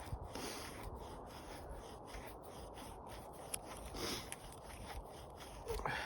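A Silky Nata 240 chopper carves wood, making close, quiet, repeated scraping and rasping strokes in a steady rhythm with no talking.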